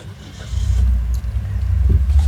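A Suzuki Fronx GL 1.5 AT 2025 in hot weather in Bekasi fires up and settles into a steady, close, low engine rumble that holds for a couple of seconds.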